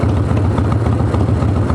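A Harley engine idles steadily at close range as its Lectron carburetor is tuned, a dense low rumble with a slightly uneven lumpy pulse throughout, loud and alone with no talk.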